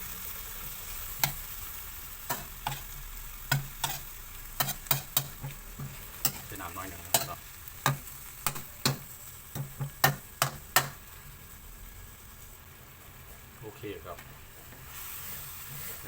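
Sliced pork stir-frying in a pan for Thai basil pork, with a low steady sizzle under a run of sharp, irregular clacks of a utensil scraping and tapping the pan, then quieter sizzling toward the end.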